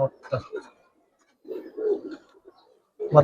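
A silver khaki Giribaz pigeon gives low, throaty coos in short bursts close by, with brief quiet gaps between them.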